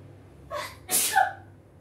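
A single close sneeze from a woman cooking breaded chicken schnitzel with black pepper in a home kitchen, a short sharp inhale followed by a loud burst, heard alone against a quiet background.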